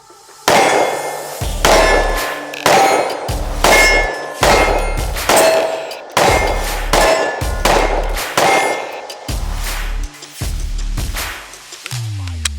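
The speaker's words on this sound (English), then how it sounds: "You hear how hard it hits the steel?" Rounds from a Springfield XDM Elite compact 10mm pistol strike a steel target: about ten loud, sharp metallic clangs, each ringing briefly, in a steady rhythm about a second apart, close and with no talk.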